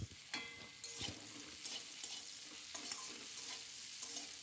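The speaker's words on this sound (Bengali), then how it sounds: "নুন আর হলুদ দিয়ে মোটামুটি 3 থেকে 4 মিনিট আগে ভেজে নেব।" Potatoes fry with salt and turmeric in a pan, producing a soft, continuous sizzle punctuated by repeated stirring scrapes, all fairly quiet and without any talking.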